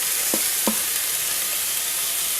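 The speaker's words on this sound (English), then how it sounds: "I'm going to add all of the cauliflower rice in." Cauliflower rice and onions fry in a pan with a loud, steady, close sizzle, broken early by two quick scraping taps of stirring.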